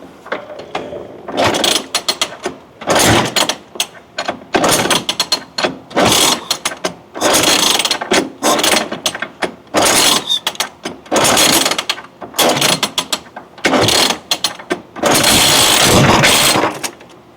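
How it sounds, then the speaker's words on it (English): Repeated pulls on the recoil starter of a stubborn pony motor on a Diesel 70, each a loud ratcheting, whirring burst, about ten or more in rapid succession with short pauses between, close up and without speech. "After a few good pulls, Craig steps back and tags in Steve for round 3 against the pony motor"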